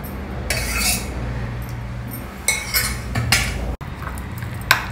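A spoon scrapes and clinks against a bowl while mixing curd into instant chutney premix, with irregular close stirring scrapes and a few sharp clinks.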